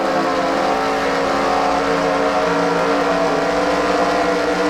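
Race car engine heard on board during qualifying at Orlando, a loud, steady high-revving drone with harmonic tones throughout, close and unbroken with no talk.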